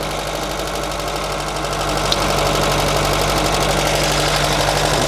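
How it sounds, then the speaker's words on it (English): A carburetted engine runs at a steady idle during carburetor adjustment, a continuous close vibrating drone with a slight rise in level partway through; no speech. "As long as it comes down to the correct idle speed, that's acceptable."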